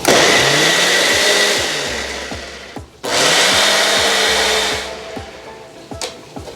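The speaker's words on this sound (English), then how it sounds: "Blend together everything." A kitchen blender whirs loudly as it purees peppers, ginger, garlic and thyme in two long bursts, each cutting off abruptly, the second trailing away into quieter handling noises.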